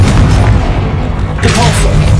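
Confringo blasting spell in Hogwarts Legacy going off as a loud, booming explosion, with a heavy low rumble throughout and a brighter burst of crackling debris about halfway through.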